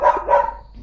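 A dog at a home gives two quick, moderately close barks in succession, the second trailing off into quiet.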